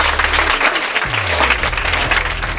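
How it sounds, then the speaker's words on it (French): A crowd applauds a pupil at a school results ceremony with dense, sustained clapping throughout, close and loud, over a low hum of background noise. "Applaudissez pour Balaji."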